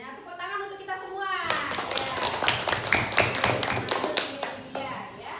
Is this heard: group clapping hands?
yes